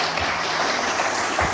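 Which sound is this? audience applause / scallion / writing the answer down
audience applause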